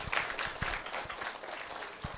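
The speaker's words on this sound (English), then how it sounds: "Give her applause." An audience at a children's financial literacy storytelling event applauding the assistant superintendent, moderate clapping from a smallish crowd, fairly even and mid-distance, with individual claps audible.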